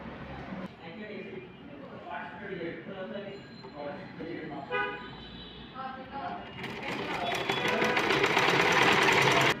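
A sewing machine stitching a blouse: a voice talks at first over a low hum, then the motor whirs up into a loud, steady buzzing run for the last few seconds.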